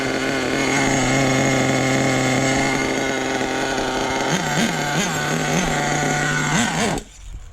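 A nitro RC car engine idles steadily and loudly at close range on a cold, damp day, its buzzing drone holding an even pitch with a few brief blips of revving near the end before it cuts off.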